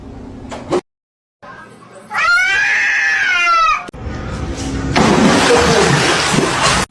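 A cat gives a loud, drawn-out yowling cry with wavering harmonics while a person brushes her teeth nearby; the wail comes up close, with a burst of broadband scrubbing noise and indistinct voices around it.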